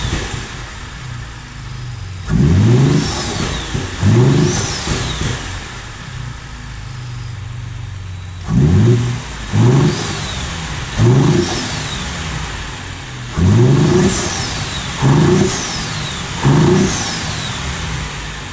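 Gen 2 Ford Raptor engine fitted with a cold air intake revving in repeated blips, roughly eight sharp rising bursts in pairs and clusters between idle stretches, loud and close, with crackling exhaust pops as the revs fall.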